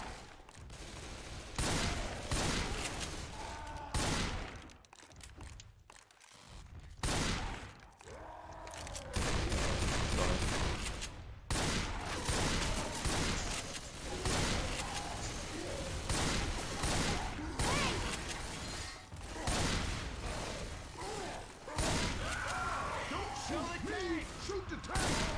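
Gunfire crackles in Left 4 Dead 2 as rapid bursts and overlapping shots come in dense clusters with brief lulls, loud and close, with players talking over the shooting.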